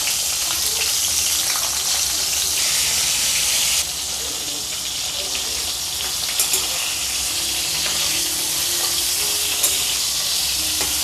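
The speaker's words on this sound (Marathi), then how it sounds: "याच्यात कारले टाकून देऊ" Bitter gourd frying in hot oil with turmeric gives a steady, loud sizzle throughout, with occasional soft clinks of a utensil and no talk.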